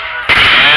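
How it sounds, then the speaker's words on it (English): Cannon fires once at a Battle of Fort George re-enactment, a sudden loud boom that rolls into a sustained echoing rumble, with a faint murmur of crowd noise before it. "And another artillery."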